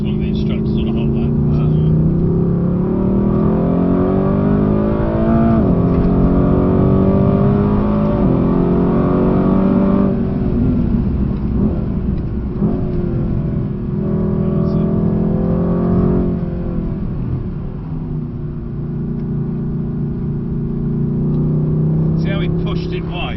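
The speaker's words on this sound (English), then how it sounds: "I think it's one of the instructors on a hot lap." A Mercedes-AMG GT is driven hard on a hot lap at a handling facility, its engine note rising and falling through gear changes, heard loud and close over the whole stretch, with people talking over it.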